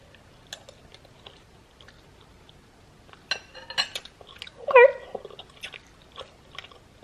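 Someone bites and chews a homemade egg noodle close up, with scattered wet smacks and crunchy bites that grow busier after a few quiet seconds, plus a brief squeaky sound in the middle.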